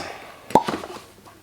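A cork pops from a bottle of Buffalo Trace kosher wheated bourbon with one short, sharp, close pop, followed by a few faint small clinks in a quiet room.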